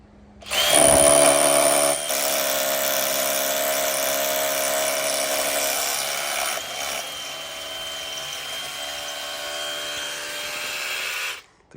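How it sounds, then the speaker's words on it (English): An SDS drill bores steadily into a driveway base for about ten seconds, a loud, continuous close-up whine that eases slightly partway through before stopping. "The key with an SDS as well is to keep your bit straight."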